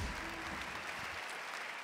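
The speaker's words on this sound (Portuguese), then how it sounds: "aplauda ao Senhor Jesus" A church congregation at a prophetic conference applauding, a dense, even wash of many hands clapping at once for a short burst.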